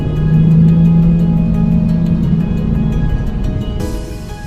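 An Infiniti Q50 S Hybrid car driving, a low engine hum with a steady tonal drone that fades gradually, close and continuous, no voices.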